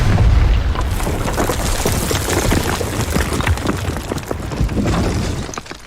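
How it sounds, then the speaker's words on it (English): Explosion effect in an audio drama as a hideout is blown apart: a loud boom followed by several seconds of rumbling, crackling debris and shattering, with no voices. "The hideout is blown to bits in a white, hot burst of heat and bleed."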